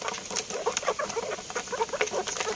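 Chickens tethered in place for breeding cluck in short, scattered bursts, several birds close by with no talking.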